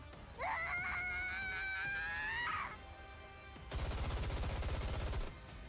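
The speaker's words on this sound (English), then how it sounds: "Snow White unleashes a barrage of bullets in a frenzy." Gunfire from the video game Goddess of Victory: NIKKE, a rapid, loud automatic burst of bullets lasting a second and a half, preceded by a high wailing scream-like cry, with no talking over it.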